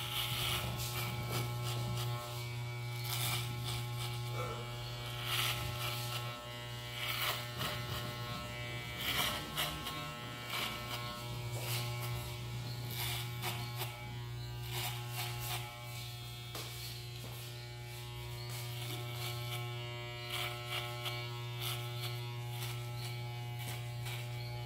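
Electric hair clipper fitted with a number 2 guard cutting hair during a fade haircut, a close steady buzzing hum with brief crisp bursts as it passes through the hair.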